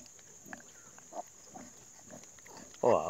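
A sow nursing her newborn piglets makes soft, low grunts spaced out at a steady pace, followed by a louder, sharper squeal at the end, with someone talking quietly nearby.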